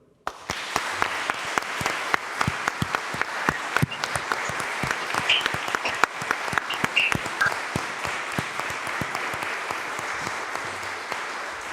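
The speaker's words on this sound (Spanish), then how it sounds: "Aplaudamos vuestro logro" Sustained applause from a crowd at a Supreme Court swearing-in ceremony for new lawyers, many hands clapping steadily for over ten seconds, with a few sharper individual claps standing out.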